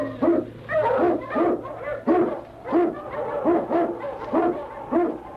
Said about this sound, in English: King, the swiftest, strongest of Eskimo lead dogs, blazes the trail through storm and snow for Sergeant Preston